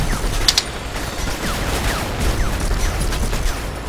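Rapid bursts of gunfire crackle in quick succession in the video game Conflict: Denied Ops, a continuous volley of shots with mechanical clatter, no talking.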